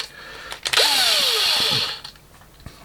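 A power drill fitted with a 38mm bit revs up sharply, whines loudly at high speed for about a second, then winds down, followed by faint clatter nearby.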